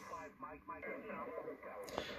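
Steady radio static hiss runs throughout, with faint garbled voices and tones drifting underneath.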